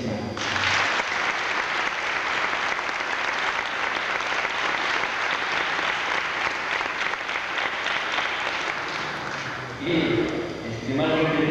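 Sustained applause from a large audience at a cadet corps ceremony, steady and loud for about ten seconds, then fading as voices and other sounds emerge at the end.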